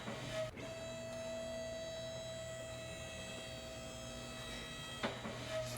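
A car lift in a car-repair simulator game raises a vehicle with a steady mechanical motor whine and hum, sustained and even for several seconds, bracketed by soft clunks at start and end, with no talking.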